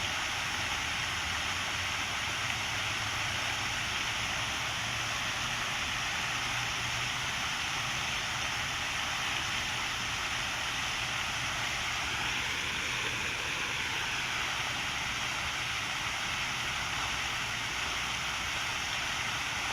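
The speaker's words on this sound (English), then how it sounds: "I really like this waterfall that is over here." Steady, dense rush of a waterfall at a memorial shrine, a constant broadband roar with no pauses, close and even throughout, without any voices.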